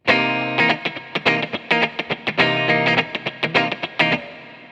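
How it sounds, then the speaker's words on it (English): A funk electric guitar played with heavy reverb, about a dozen short choppy chord stabs in a syncopated rhythm, each one ringing out in a long wash of echo, with no voices. "If you have a sound that has a whole lot of reverb on it, like say this sound,"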